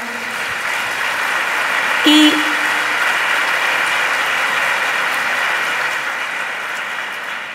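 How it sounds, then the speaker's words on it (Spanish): Audience at a vocational training conference in Extremadura, Spain, applauding steadily in a dense, sustained burst of clapping that fills the hall, with a brief spoken word cutting through near the middle. "Fuerte aplauso, por favor, para él."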